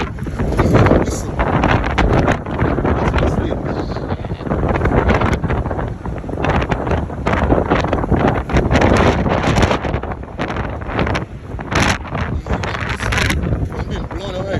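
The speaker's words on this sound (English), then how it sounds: "it's windy up here" Strong gale-force wind from Storm Eunice in London roars and buffets the microphone continuously, loud and close throughout, with gusty surges and a person speaking underneath.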